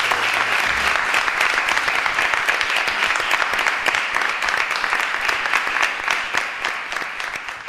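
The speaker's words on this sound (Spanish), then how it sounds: "Ha sido largo y sonado ese aplauso" Long, sustained applause from a crowd at a town council session farewell, many hands clapping evenly and loudly throughout, with no voices standing out.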